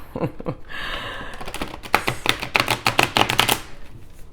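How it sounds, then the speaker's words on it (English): Quick crisp riffling and clattering of tarot cards being shuffled, a burst of rapid taps and snaps up close, repeated in a few flurries. "Let me give these cards a good shuffle"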